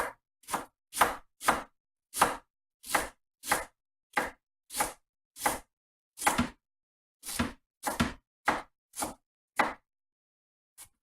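Celery chopped into small pieces with a knife on a cutting board: about eighteen crisp, close, evenly spaced chops in a steady rhythm with short pauses and no talk.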